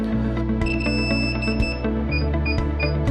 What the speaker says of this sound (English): When the remote controller starts beeping, press the linking button on the aircraft.